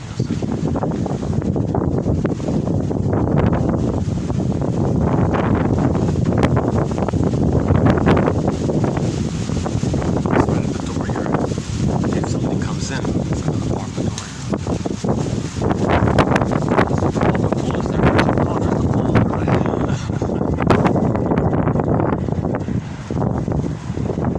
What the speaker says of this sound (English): Gust of wind.